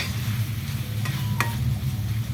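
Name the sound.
stirring onions and seasoning in a pan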